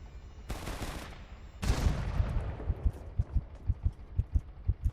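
Explosions in the VR game Webshooters VR: two loud broadband blasts, the second trailing into a rumbling decay, followed by a steady run of low thumping pulses, with no talk.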